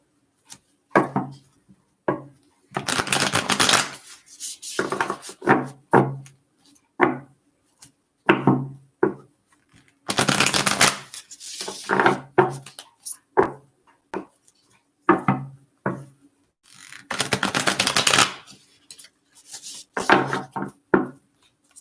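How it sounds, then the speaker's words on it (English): An Illuminated Oracle card deck being shuffled by hand, with repeated bursts of riffling and papery slapping separated by short pauses, close and fairly loud, with no talking. "just a couple more shuffles here"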